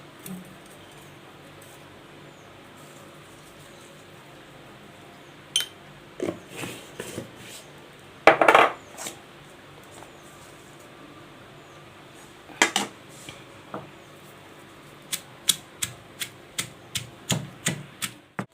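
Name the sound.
pounding green chilies and raw mango with salt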